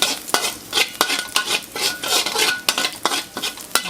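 Garlic, carrot and cabbage stir-fry in a hot pan with rapid, loud scraping strokes of a utensil against metal, a rhythmic clatter over a continuous sizzle.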